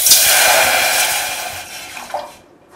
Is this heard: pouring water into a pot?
yes